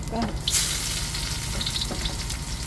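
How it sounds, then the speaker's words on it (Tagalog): Garlic, onion and lemongrass sauté in a hot pan with a steady close sizzle, a brief louder hiss burst early on and faint stirring clinks throughout. "Ito na yung ating gigisa bawang sibuyas, tanglad"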